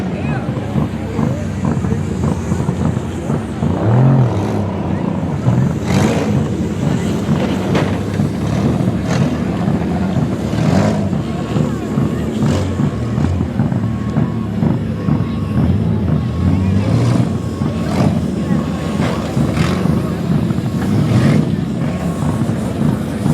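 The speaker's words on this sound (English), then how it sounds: "We've got a big pile up here in the middle of the track." Street stock cars at a county fair demolition derby rumble and rev on the track, a constant loud engine drone with scattered bangs, under wind buffeting and an announcer's voice.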